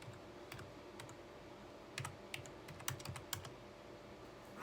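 Typing on a computer keyboard in a quiet room: sparse, faint key taps, then a brief flurry of sharper clicks, with no voices.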